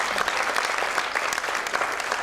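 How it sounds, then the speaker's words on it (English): Big round of applause from the audience for Dr. Supriya at Sahyadri Hospital's Momstory launch event, dense and steady throughout, with dense crowd clapping filling the room. "Let's have a huge round of applause for Dr."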